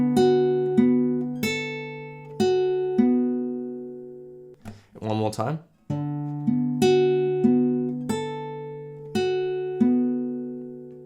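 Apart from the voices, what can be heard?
fingerpicked guitar playing a song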